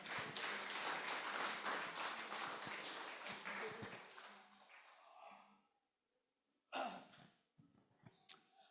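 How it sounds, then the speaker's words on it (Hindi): A congregation at a Sunday church service claps loudly to welcome the pastor, a dense burst of applause lasting several seconds before fading out, followed by a few scattered taps and movements. "आइए पास्टर जी का जोरदार तालियों से स्वागत करेंगे।"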